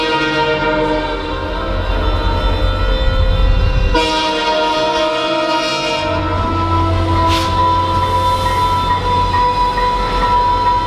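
A train pulls into a station, its steady rolling rumble and wheel noise heard close, with sustained horn-like tones and squealing brakes as it slows, and a brief sharp clank partway through.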